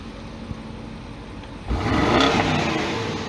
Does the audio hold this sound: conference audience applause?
no